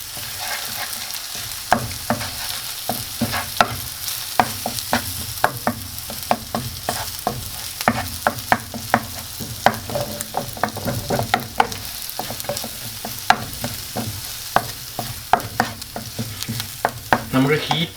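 Egg mixture stirred steadily in a pan over very low heat, with quick repeated scraping strokes in a busy rhythm over a faint sizzle, close and continuous for the whole stretch.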